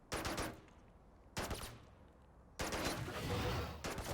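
Valorant turret firing in a competitive match, three separate bursts of rapid automatic fire, loud and close, with gaps between them and the last burst running longer.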